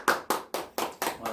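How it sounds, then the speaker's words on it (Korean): Hand claps from an audience at a lecture, about six sharp, evenly spaced claps close by, with no talking over them. "박수 주세요."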